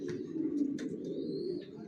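A healthy young racer pigeon coos steadily and close by, a low continuous throaty murmur running through the whole moment, with a few faint chirps from other birds above it.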